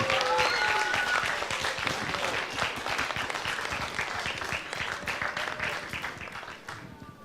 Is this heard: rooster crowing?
no